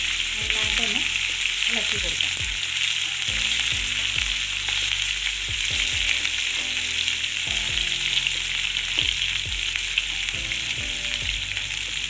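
Garlic and ginger fry in hot oil in a pan for a bitter gourd pickle, giving a loud continuous sizzle with occasional clinks of a spoon against the pan, close up and without talk.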